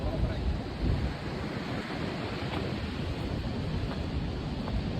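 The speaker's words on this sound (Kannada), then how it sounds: "ಈ ಸೀಸನ್ ಅಲ್ಲಿ ಮಾತ್ರ ಅಲೆಗಳು ಮಾತ್ರ ಭಾರಿ ಜೋರಾಗಿ ಬರ್ತಾ ಇದೆ" Heavy monsoon surf on a Mangalore-area beach at night, a continuous low roar of breaking waves with wind buffeting the microphone.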